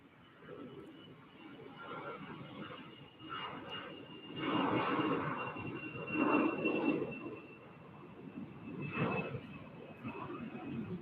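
An airliner departs Salt Lake City International Airport, its broad jet roar swelling and fading in waves at a moderate distance, steady and unaccompanied by voices.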